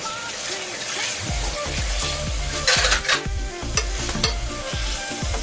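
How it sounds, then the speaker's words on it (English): Shredded fried king fish (anjal) is stirred into biriyani in a pot: a quick series of rhythmic scraping strokes over a constant close sizzle. "Add shredded fish fry"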